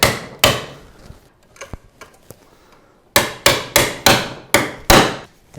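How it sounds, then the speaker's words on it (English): A pry bar is worked behind an electrical box to free it from a wall stud, producing a few scattered knocks and then a rapid run of six loud, sharp strikes, close up. "you just want to pry that box away from the stud"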